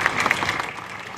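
An outdoor audience at a Kashubian cultural gathering claps steadily, a brief dense patter of many hands fading slightly toward the end.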